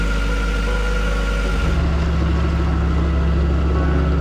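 A boat engine with a faulty gearbox runs steadily and loudly on the Norwegian coast near a lighthouse, a deep droning hum with a ringing mechanical tone that shifts slightly in pitch partway through.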